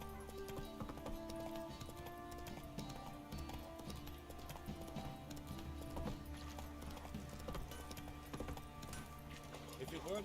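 Hooves of Roach, the horse in The Witcher 3, clop steadily under game music and ambience, fairly quiet and mixed with a brief neigh and some background voices.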